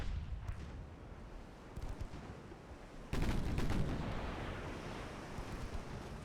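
Naval gunfire from warships in a naval strategy game, distant muffled booms over a constant sea-like rumble, with one heavier salvo midway followed by a sustained roar.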